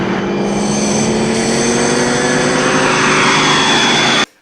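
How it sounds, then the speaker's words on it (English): The KITT Knight Rider car sound blends a whining turbine with a V8 combustion engine into a loud, steady roar with rising tonal whine, then it cuts off abruptly at the end. "they would do a mix-up of the turbine and an actual fuel-powered internal combustion engine, like a V8 engine in KITT"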